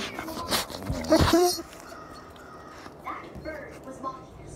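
A dog gives a couple of short, high whimpering yelps near the start, then a few faint whines follow amid scuffling and brief background sounds.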